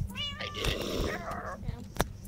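A cat in the Minecraft video game lets out a couple of short meows with a rising tone, sitting over a low steady game background hum.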